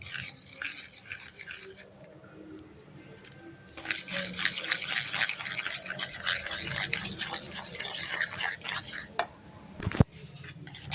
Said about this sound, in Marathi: चक्का चांगला विस्करच्या साहाय्याने चांगला फेटून घ्यायचा आहे।